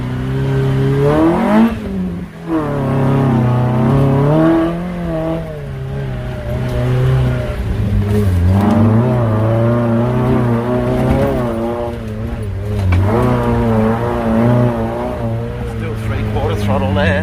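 A Suzuki Sierra 4WD in two-wheel drive climbs a hill on a track near Cairns at half throttle, with a loud, sustained engine drone whose pitch rises and dips as it works, while someone talks over it.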